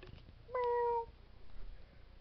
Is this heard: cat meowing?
yes